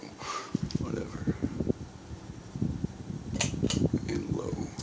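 A 1991 Fasco Gulf Stream 52-inch ceiling fan runs with a steady low whir and faint hum, with soft rustling and a few clicks over it.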